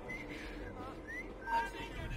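A character whistles in the video game Assassin's Creed Syndicate: a few short, thin, airy whistled notes under a murmur of game ambience and speech.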